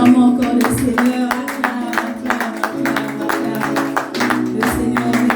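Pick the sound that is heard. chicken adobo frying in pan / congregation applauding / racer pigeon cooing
congregation applauding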